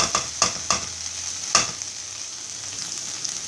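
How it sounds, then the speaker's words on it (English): Okra frying in a pan gives off a steady, close sizzle, broken early on by several sharp scraping clinks as a utensil stirs it, then the sizzle continues alone. "6 minutes since I have been frying this okra"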